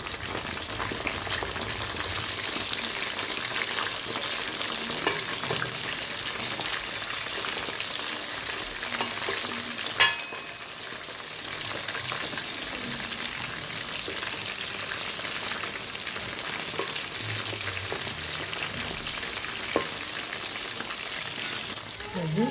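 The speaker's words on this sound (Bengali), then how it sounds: "এই যে চিকেনটা এক পাশ হয়ে গেছে, এখন আমি আর এক পাশ উল্টে দিব।" Chicken pieces fry in hot oil in a home kitchen, a steady close sizzle and crackle running throughout, with a couple of sharp clinks as pieces are turned over partway through.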